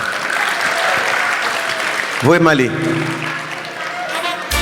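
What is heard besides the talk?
applause at memorial gathering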